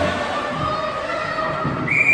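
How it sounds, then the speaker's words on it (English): A referee's whistle gives a short, sharp blast at the end of a noisy stretch of a hockey game, over the steady rumble of the rink and crowd. "We'll have a whistle."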